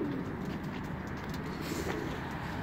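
Pigeons back from a flight cooing softly near the loft, low murmuring coos blending into a faint, steady outdoor background.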